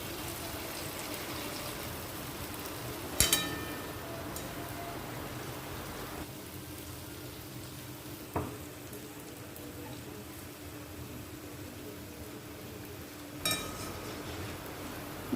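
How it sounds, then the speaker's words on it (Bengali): Palm fruit fritters (taler bora) frying in a pan of hot oil make a steady, hissing crackle that sounds like rain throughout, broken by a few sharp clinks of a utensil. "সব দিকগুলোই ভালো করে ভেজে নেব।"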